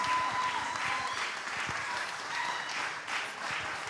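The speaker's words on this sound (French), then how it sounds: "Stop les applaudissements." Studio audience applause at the close of a French talk show: steady, dense clapping from a crowd, fairly close and unbroken throughout.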